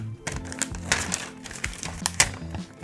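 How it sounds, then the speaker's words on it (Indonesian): Unboxing an Apple Magic Keyboard with Touch ID, black-backed aluminium: close, irregular crinkles, taps and clicks of packaging being handled, with sharp transient bursts over a low room hum. "Kita buka Magic Keyboard Touch ID-nya."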